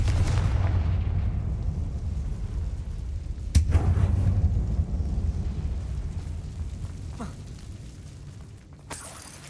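A Confringo fire spell blast in the Hogwarts Legacy video game goes off as a sustained loud roar, with a sharp crack partway through and a crackling burst near the end.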